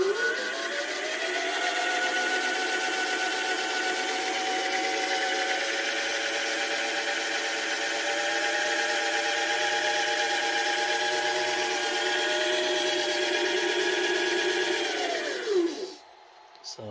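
A DIY CNC lathe spindle, driven by a 24,000 RPM motor through 6:1 reduction, runs at low RPM with a steady whining hum and stable tonal bands, then winds down and stops near the end.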